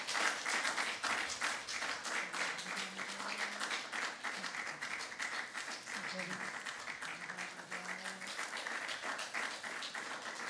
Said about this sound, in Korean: 여러분 한번 박수해 주세요.